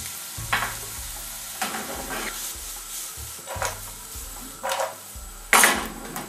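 Onions frying in a pan, a steady soft sizzle broken by several scraping stirs and utensil clinks against the pan, close and alone.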